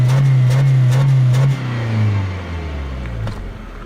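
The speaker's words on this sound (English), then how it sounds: "this sounds really good when you're accelerating really hard" A new car's engine revs loudly under hard acceleration, a rising drone that holds, then drops off and settles into a lower, fading hum, heard from inside the car with no talking.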